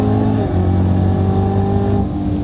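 A 2019 Chevrolet Camaro ZL1 accelerates hard on a race track, its engine note loud, close and continuous, with a steady low harmonic roar that shifts pitch once partway through and then holds under full throttle.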